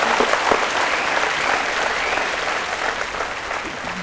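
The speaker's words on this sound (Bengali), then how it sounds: "কোয়েলের জন্য একটা জোরে হাততালি হয়ে যাক" Studio audience on the Bengali quiz show KBC Bangla bursts into loud, sustained applause, a dense even wash of clapping across the whole stretch with a slight swell near the start.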